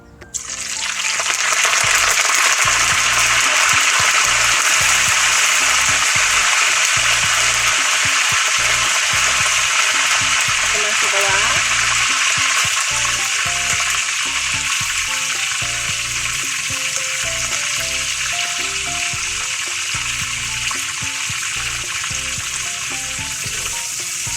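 Loud, steady sizzling of cumin and curry leaves frying in hot oil, close up and continuous, with faint background sounds underneath.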